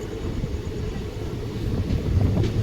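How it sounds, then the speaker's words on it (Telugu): The 12604 Chennai SF Express rolls slowly, a steady low rumble and rattle from inside the train, even and continuous with a slight swell near the end, no talk. "ఇక్కడ కొంచెం స్లోగా పోతుంది ఎందుకో ఏమో ట్రైన్"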